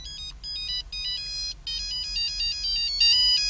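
A mobile phone rings loud and close with a repeating electronic melody in short bursts separated by brief gaps, over a low background hum, with no talking.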